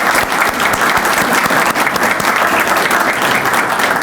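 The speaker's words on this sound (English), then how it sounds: "Michael, I applaud you." An audience at a dedication ceremony applauding, dense sustained clapping from a sizable crowd, loud and even throughout.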